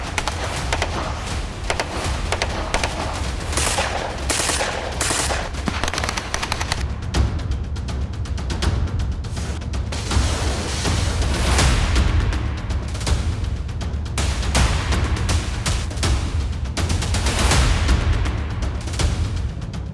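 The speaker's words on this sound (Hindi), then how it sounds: "चीन ताइवान सीमा पर बम बारूद के धमाके पूरी दुनिया को डरा रहे हैं।" Gunfire and explosions at China-Taiwan border military exercises ring out in sharp, rapid bursts of automatic fire mixed with heavier booms, loud and continuous across the whole stretch.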